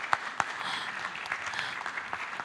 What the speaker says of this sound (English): Maybe let's give them a round of applause.